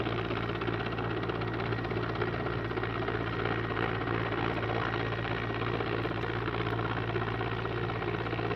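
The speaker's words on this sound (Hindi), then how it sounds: "तस्वीरों में आप साफ तौर पर देख सकते हैं टिहरी झील से कैसे हेलीकॉप्टर पानी भर रहा है" A steady, loud helicopter drone from an Air Force helicopter hovering over Tehri lake to fill its water bucket, with a continuous rotor and engine rumble and no break for the whole stretch.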